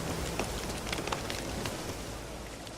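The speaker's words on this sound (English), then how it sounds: "So, the Witcher sense enhances sound too, I guess. It's supposed to be rain, I guess?" Rain in The Witcher 3 as heard through the enhanced Witcher-sense hearing: a dense, even wash of falling drops with scattered sharper patters, steady and close throughout with no voices.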